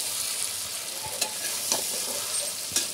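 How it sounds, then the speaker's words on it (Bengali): Onions stir-fried for spicy chicken kosha, a dense close sizzle broken by three or four spatula scrapes and knocks against the pan, with no one talking. "এই যে পেঁয়াজগুলো নরম হয়ে গেছে,"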